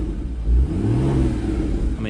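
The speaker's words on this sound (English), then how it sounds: "let me just give it a little rev just so you can hear." A Porsche 981 Boxster S with PDK gearbox and 50,833 miles on it is revved briefly at a standstill, giving a short loud blip that rises and falls over a steady low idle.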